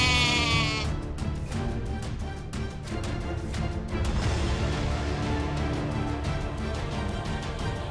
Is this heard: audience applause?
no